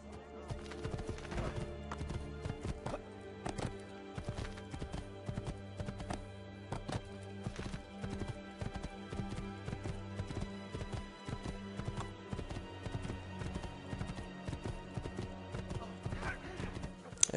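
Hooves of a galloping horse in Assassin's Creed II clatter in a quick, steady clip-clop through a crowd, with a brief whinny and someone speaking German underneath.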